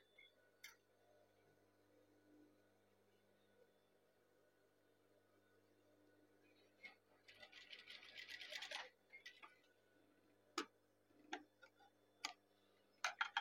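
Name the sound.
sewing machine stitching a batik sleeve cuff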